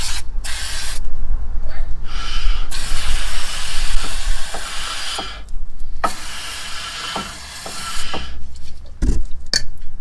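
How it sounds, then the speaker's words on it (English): Brake cleaner is sprayed onto the brakes of a Bongo van in loud, close hissing bursts of uneven length, with brief gaps between them and some faint clanking of metal. "Bit of brake cleaner you need."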